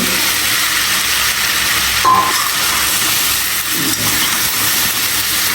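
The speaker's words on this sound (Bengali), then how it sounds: "এখন ফুলকপিটা দিয়ে দিব" Cauliflower goes into a hot pan and sets off a loud, steady sizzling hiss with steam, continuous and close, with a faint clink partway through and no one speaking.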